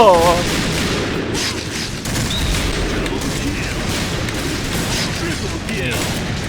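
Sniper rifle fire in the shooter game Point Blank, a Barrett against a Kar98k, cracks loudly with a sharp opening shot and then scattered gunfire and mechanical clicks, while a player talks over it throughout.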